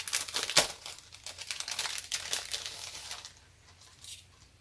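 A small paper card from a mail package is handled close up, with crisp crinkling and rustling bursts that thin out and fade to quiet near the end, with no talk.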